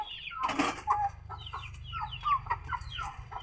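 Domestic hens cluck around a village house yard, giving a steady run of short, chattering clucks and calls throughout at moderate distance.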